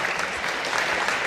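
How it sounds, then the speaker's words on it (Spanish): Studio audience at a program about rare diseases gives a brief, dense burst of applause to welcome a guest, steady and fairly loud throughout. "Así que lo recibimos con un fuerte aplauso y muy felices de tenerlos por acá."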